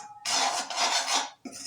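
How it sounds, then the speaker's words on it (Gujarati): Wheat flour roasting in ghee in a pan for laddus, with a spoon scraping and stirring in two close bursts of gritty rasping, metallic contact audible, no talk. "તો આવી રીતના શેકાઈ રહ્યો છે મિત્રો લોટ આપણો લાડવા માટે"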